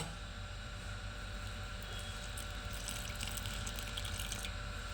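Water is poured into a paneer pakora batter mix seasoned with pepper and cumin powder, a steady soft splashing trickle running close and alone throughout.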